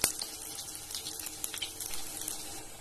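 Bread and coconut samosas fry in hot oil over a medium flame, giving a soft, continuous sizzle and crackle with small bubbling pops, fairly quiet and with no talk.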